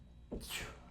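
A single sharp sneeze bursts out once in an otherwise quiet room, brief and fairly faint, with no talking around it.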